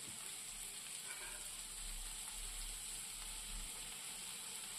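Prawn curry masala with black pepper powder sautés in a pan, giving a faint, continuous frying hiss with soft stirring scrapes and a low steady hum underneath.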